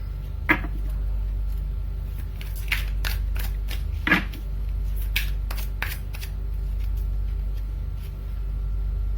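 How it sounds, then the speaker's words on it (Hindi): Tarot cards drawn and handled for a career spread, with a steady run of crisp, close shuffling snaps and flicks, a few sharper slaps standing out, over low constant room hum and no talk. "So I will take out 3 cards for your career spread."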